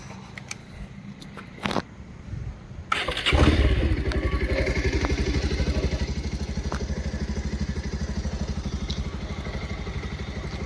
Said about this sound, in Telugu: ఇప్పుడు మీకు స్టార్ట్ చేసి చూపిస్తాను